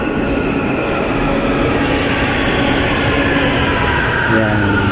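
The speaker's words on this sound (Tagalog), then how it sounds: "Ayan na guys yung ating train." A Riyadh Metro train pulls into an underground station with a loud, steady rumble and rising wheel squeal, then a brake hiss near the end; the noise stays close and continuous.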